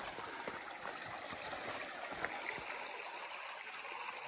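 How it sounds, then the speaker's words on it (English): A stream or brook beside a hiking trail, a steady close rushing and babbling flow that fills the scene with no voices. "This is the stream or the brook."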